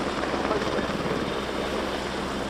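A steady, dense roar from a Merlin helicopter with three Rolls-Royce turbine engines at an air show, rapid rotor throb, loud and close, continuing without a break.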